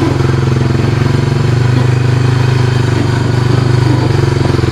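A Roketa 110cc off-road go-kart engine runs steadily close by, a loud, rough, even buzzing drone with a constant rhythmic pulse and no voices.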